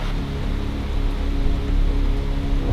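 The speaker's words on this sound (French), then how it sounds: "Là, il pleut à torrent et on est couvert juste par ça." Torrential rain pours down under a shelter at Auroville, a dense, steady roar of drops hammering the cover with no pauses.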